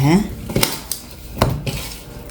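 Metal utensils clatter and scrape against a pan while stirring frying taro root in a few sharp bursts, close up, with no talking.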